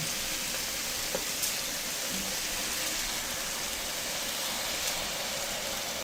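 Cowpeas sautéing with onion in a pan in a South Indian home kitchen make a steady, even sizzle, a dense continuous crackle that never lets up across the whole stretch.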